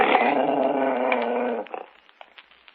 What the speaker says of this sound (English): It seems that my dog has been scratching at your door again.